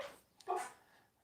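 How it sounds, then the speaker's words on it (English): A dog indoors in a woodworking shop gives a single short, muffled bark, faint and close, with quiet room noise around it. "He just barked"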